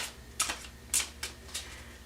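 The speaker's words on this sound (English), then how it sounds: "See if I can shuffle without throwing them all over the place." Tarot cards shuffled by hand, a few quick crisp riffling bursts spaced irregularly over a couple of seconds, close and fairly soft against a quiet room.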